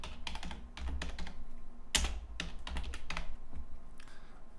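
Fingers type on a computer keyboard in short bursts of quick, close key clicks separated by brief pauses, quiet and alone with no talking.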